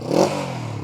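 A 1967 Honda CB450 Black Bomber motorcycle engine gives a short, loud throaty burst, then settles into a steady rumble, heard close.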